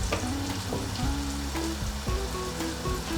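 Dry coriander powder sizzles steadily in hot oil in a pan, with a constant crackling hiss and a few soft clinks of utensils throughout.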